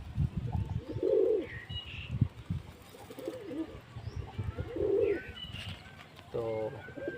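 Pigeons coo in low, throaty bursts close by, with a few faint chirps and brief wing flutters mixed in, while someone talks over them.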